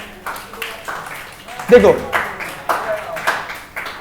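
Students in a class clap in short, uneven bursts, a few scattered sharp claps rather than full applause, while a teacher's voice talks over them.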